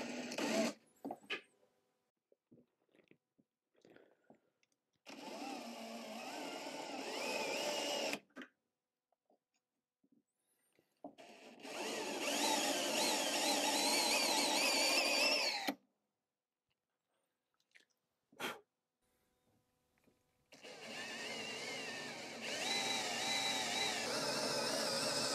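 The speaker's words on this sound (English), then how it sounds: "I'll start with a Forstner bit to make sure I can get this drilled right in the center" Three long bursts of power drilling into a wooden chair leg with a Forstner bit, each a steady whirring grind lasting several seconds, close and loud, separated by near-silent pauses with a few faint knocks.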